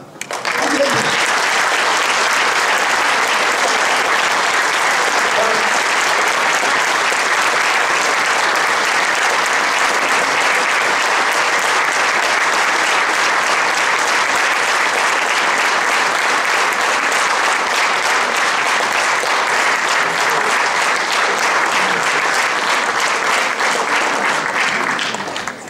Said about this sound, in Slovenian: zaploskali bomo fantom iz Pratvrtna